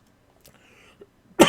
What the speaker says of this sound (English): You caught my cough.